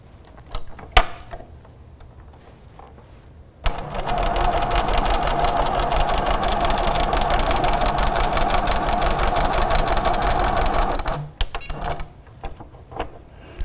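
A Little Rebel sewing machine from Grace Co. runs steadily for about seven seconds, stitching a quilted table runner seam, with quiet handling noises before and after the burst.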